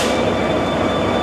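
An EMD-built B&O GP30 diesel locomotive idles close by, with radiator fans on top, giving a loud, steady engine rumble and a constant high whine with no break or voices.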